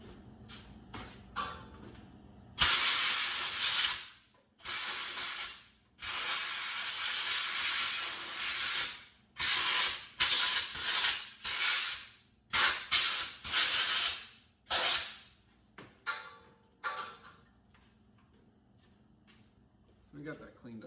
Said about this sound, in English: I'm actually just going to blow that out with a little bit of air real quick